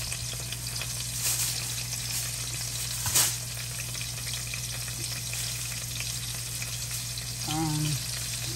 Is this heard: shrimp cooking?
yes